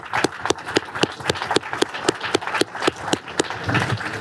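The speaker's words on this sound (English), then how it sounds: "But can we just have a round of applause for our two panelists?" Applause for two panelists after a policy discussion on foreign aid, sparse and uneven with distinct sharp claps standing out from a thin background, nearby and moderately loud, tapering near the end.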